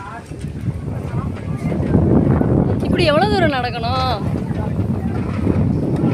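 Gusty wind buffeting the microphone throughout, a low roaring rush, while a person talks over it.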